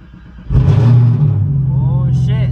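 Chevrolet Camaro ZL1 engine cranking over in a prolonged stutter before catching, then a loud, close, rough idle rumble.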